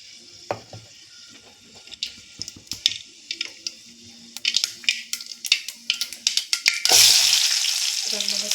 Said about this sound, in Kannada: ಇವಾಗ ಸ್ವಲ್ಪ ಸಾಸಿವೆನ ಹಾಕ್ತಿದ್ದೀನಿ ನೋಡಿ.